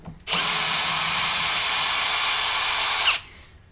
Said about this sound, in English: So what we're going to do is remove these screws.